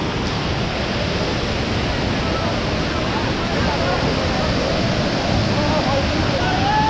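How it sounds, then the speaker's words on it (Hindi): The waterfall at Mahadevpaani, near a Shiva temple, gives a loud, continuous broadband roar of falling water that stays even and unbroken throughout. "उस पेड़ के पीछे वाला जो फॉल है वो अल्टीमेट लेवल पे चल रहा है यार"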